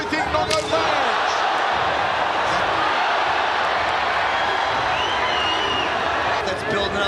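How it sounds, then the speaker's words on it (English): Loud, dense crowd roar at a Muay Thai fight featuring Nong-O, sustained throughout with rising cheers and sharp bursts, a commentator's voice faintly audible beneath. "This highly educated crowd cheering with everything Nong-O lands."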